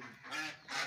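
A duck gives two short, loud quacking or honking calls close by, separated by a brief pause, with no talk over them.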